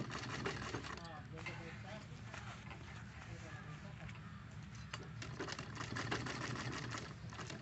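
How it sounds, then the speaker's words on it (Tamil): Sewing machine stitching a fabric drawstring wrist bag, a steady continuous whir running throughout with a voice talking over it. "இப்படி வச்சு கூட நீங்கள் தையல் போடலாம்"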